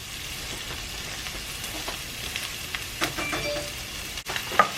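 Red beans cooking in a pot are stirred with a spoon, a low bubbling sizzle under scattered soft scraping and clinking as the spoon moves through, with a sharp click near the end.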